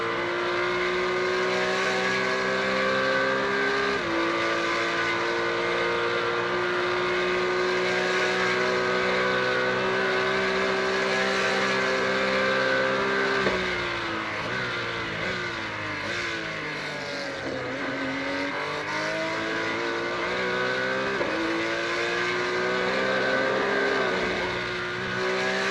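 Porsche race cars racing at the Imola circuit (Autodromo Internazionale Enzo e Dino Ferrari), engines droning steadily with rising and falling pitch as they shift gears and brake, loud and continuous throughout.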